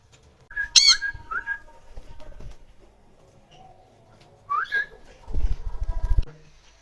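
Pet birds let out of their cages give sharp whistling squawks in two short bursts, close and clear, followed by a brief rumbling flutter near the end.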